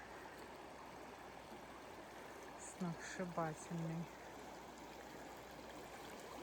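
Mountain river Kutyn flowing, a steady broadband rush of water running throughout, with a short spoken phrase heard briefly over it midway.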